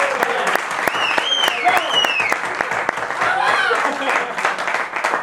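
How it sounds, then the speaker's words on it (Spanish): An audience at a Latin jazz concert claps strongly and steadily, with scattered whoops and cheers rising over the applause. "pido para él otro fuerte aplauso"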